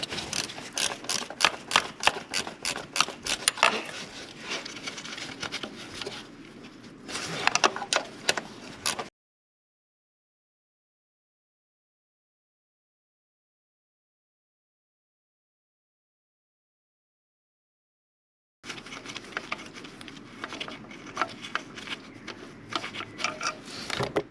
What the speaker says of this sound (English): You have to just use this ratchet wrench, I guess